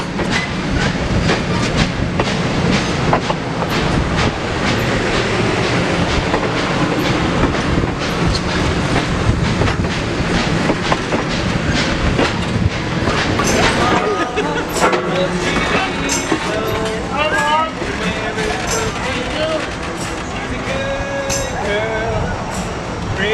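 A Great Smoky Mountains Railroad train pulled by diesel locomotives runs along the tracks, loud and close, with steady clickety-clack of the wheels over rail joints and some squealing toward the end.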